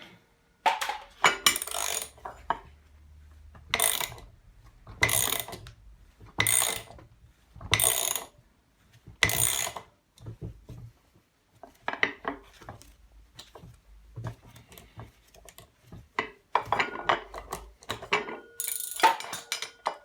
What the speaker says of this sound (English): Good solid aluminium pulley on that.